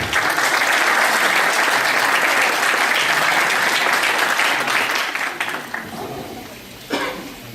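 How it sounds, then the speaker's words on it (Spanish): An audience at a workshop breaks into strong applause welcoming a female doctor to the podium, a loud sustained roar of clapping that slowly thins and fades out near the end. "Recibamos con un fuerte aplauso a la doctora Liliana Constante."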